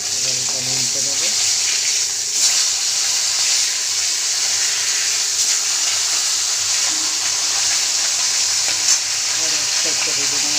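Fish sizzling steadily in hot oil in a pan as it is turned over, a continuous close frying hiss with faint stirring and scraping, no speech.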